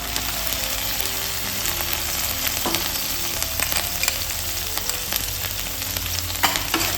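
Green chili paste frying in oil with boal fish masala, a steady dense sizzle with occasional stirring scrapes, close and continuous.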